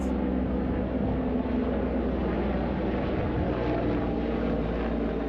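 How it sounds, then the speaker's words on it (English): A heavily loaded military helicopter drones overhead in Old Jaffa, Tel Aviv, a loud, steady low rumble of engine and rotor that fills the whole stretch without fading. "That was a heavy loaded military chopper."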